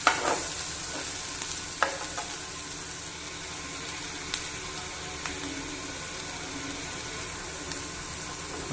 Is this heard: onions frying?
yes